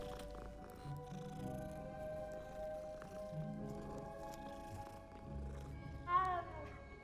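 A cat being petted in Hogwarts Legacy gives a short, fairly close vocal sound near the end, over a steady bed of game music and low ambience.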